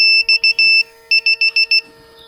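An MX5 diagnostic gadget beeps sharply as it powers up, a loud close run of four short bleeps and a longer tone, a pause, then five more quick beeps.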